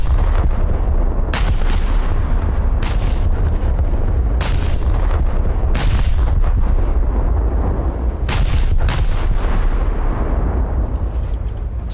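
Heavy naval main-battery salvos from the battleship Scharnhorst in a naval combat video game, with about eight loud, sharp booming shots at irregular intervals of one to two seconds over a constant rumbling roar of engines and sea.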